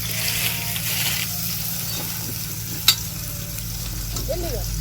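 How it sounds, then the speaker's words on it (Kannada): Sliced onions fry in ghee in a pan with a steady, fairly close sizzle. A single sharp clink sounds partway through, and faint background noise sits under the frying. "ಮತ್ತೆ ತುಪ್ಪದಲ್ಲಿ ಫ್ರೈ ಆಗೋದು ಚೆನ್ನಾಗಾಗುತ್ತೆ"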